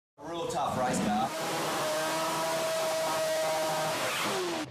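A BMW drag race car revs hard, a loud, continuous engine roar with rising pitch lasting several seconds, starting abruptly and cutting off at the end.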